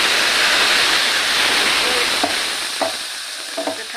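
Cumin seeds dropped into hot oil crackle and sizzle loudly in a pan, a dense close hiss that thins toward the end with a few sharp pops and faint talk.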